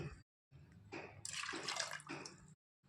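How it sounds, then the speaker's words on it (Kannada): Water pours steadily for a couple of seconds into a cooking pot holding turmeric, a broad splashing rush that swells in the middle, with brief pauses before and after. "ಈ ಬಟ್ಲಲ್ಲಿ ಒಂದೂವರೆ ಬಟ್ಲೆ ನೀರು ಹಾಕ್ಕೊಳ್ತೀನಿ"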